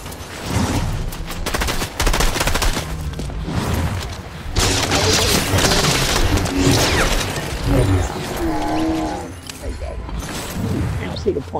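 Gunfire in Fortnite with cheap guns: loud, dense bursts of shots and booms run through most of the stretch, with talk over parts of it.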